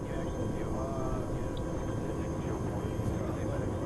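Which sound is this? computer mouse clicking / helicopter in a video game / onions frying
helicopter in a video game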